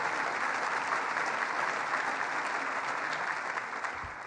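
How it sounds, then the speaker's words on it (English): Audience clapping at a Governor Cuomo announcement event in Buffalo honoring the city's mayor: a sustained, even sheet of applause that thins slightly at the end, where a brief low thump sounds. "Let's give him a round of applause."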